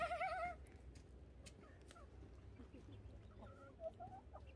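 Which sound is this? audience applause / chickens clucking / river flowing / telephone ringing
chickens clucking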